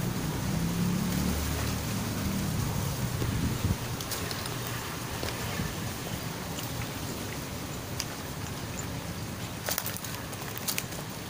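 Strong wind blowing outdoors behind a house during an eel-fishing outing, a steady loud broadband rush with gusty buffeting against the microphone, heavier in the first few seconds, with no talking.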